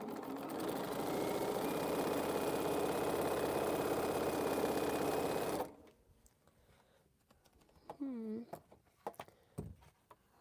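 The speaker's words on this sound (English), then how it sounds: "I'm just sewing some future units together" A sewing machine stitches quilt units together in a steady, loud mechanical whir for several seconds, then stops, followed by quiet handling sounds and a brief voice.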